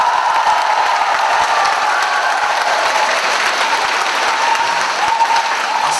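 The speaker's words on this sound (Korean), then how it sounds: "박수가 제일 많네요." Steady, dense applause fills a church gathering at a Catholic martyrs' commemoration event as a priest is introduced, loud and continuous throughout with no speech over it.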